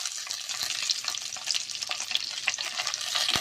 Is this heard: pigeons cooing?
no